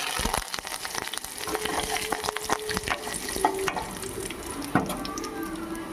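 Curry leaves fry in hot oil for dosakaya pappu, a steady close sizzle with scraping stirs and clinks of a spoon against the pan throughout.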